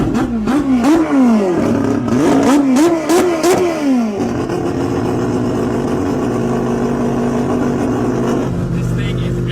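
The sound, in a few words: turbo rotary engine starting and revving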